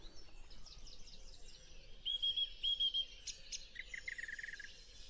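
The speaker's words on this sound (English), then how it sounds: "It's always a song thrush singing around this area." A song thrush sings in open countryside, its bright repeated phrases rising and falling at moderate distance over a faint background hiss, with a few thin higher notes from other birds.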